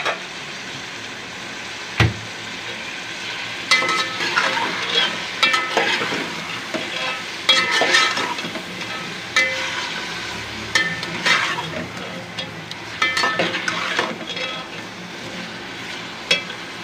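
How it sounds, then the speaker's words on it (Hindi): Chopped tomatoes go into a frying masala for aloo and chicken biryani, giving a steady close sizzle broken by repeated stirring scrapes and clinks, with no talking. "टमाटर कट गए, टमाटर डाल देंगे"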